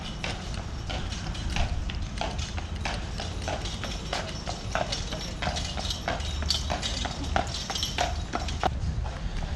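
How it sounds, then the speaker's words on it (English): A horse and buggy pass through Pulaski Square in Savannah, Georgia, the hooves clip-clopping in a steady rhythm close by over light street ambience and faint talk. "there's a horse and buggy going by me"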